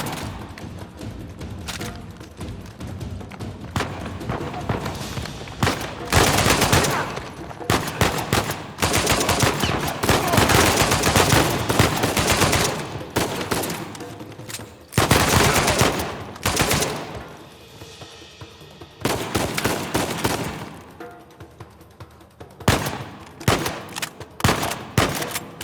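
Gunfire in the video game Uncharted 4 during a Madagascar level: loud, sustained bursts of automatic fire and heavy shots, dense and continuous with brief lulls, close and intense throughout.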